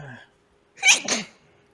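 A single sharp sneeze, close and loud, preceded by a brief murmur of voice.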